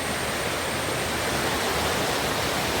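Madatharuvi waterfall near Ranni pours down a rocky hillside in a steady, dense roar of falling water, close and loud throughout with no pauses.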